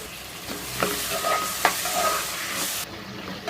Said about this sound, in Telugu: కాసంత పసుపు, చిన్నగా కట్ చేసిన 2 టమాటా ముక్కలు అండి కట్ చేసి వేస్తున్నాను.